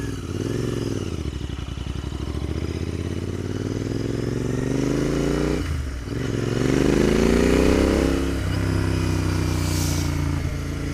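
Royal Enfield Interceptor 650 motorcycle under way on a test ride, its engine loud and close, revving up through gears with rising pitch, a brief dip near six seconds before it pulls hard again.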